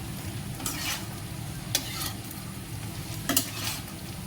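Chicken 65 sizzles in a frying pan while a spoon stirs it, giving a few sharp scrapes and clinks over the steady crackle, near and moderately quiet with no talking.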